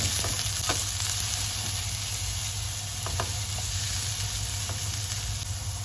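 Garlic and onion sautéing in a pan for Kapampangan-style ginisang tahong, a steady close sizzle and hiss with a few soft scraping stirs and utensil taps, no voices.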